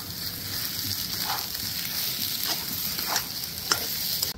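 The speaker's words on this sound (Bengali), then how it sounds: "আবারও খুব ভালো করে মিশিয়ে নেব।" A spoon stirs spiced mashed potato filling for aloo chop in a hot pan, with a soft continuous sizzle and a few scraping strokes of the utensil, close by and with no talking.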